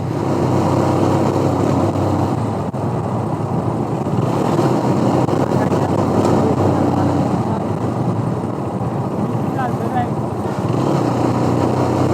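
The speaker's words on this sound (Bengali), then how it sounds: "বাইক গুতাইতেছে তার মানে তেল শেষ" A GPX Demon Da Corsa 2 motorcycle running nearly out of fuel, its engine sputtering while riding, heard as a loud continuous drone mixed with rushing road and wind noise throughout.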